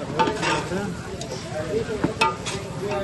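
Pork fries in a pan with a steady crackling sizzle, punctuated by stirring scrapes and occasional utensil knocks, close and busy throughout.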